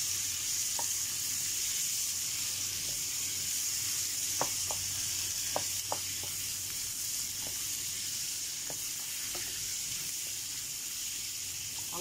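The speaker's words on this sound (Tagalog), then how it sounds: "Fry with butter." Asparagus fries in butter in a pan, giving a steady, even sizzle. Scattered small pops and ticks sound over it at close range.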